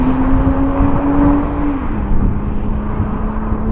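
A Toyota Supra launches in a drag race. Its engine gives a loud, continuous drone with a whining tone that sags slightly partway through, heard close with no talk.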